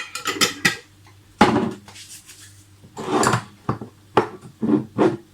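A spoon clinks and scrapes against a bowl in a series of short, close knocks and scoops while making Polish garlic sauce with mayonnaise, with quiet gaps between the sounds.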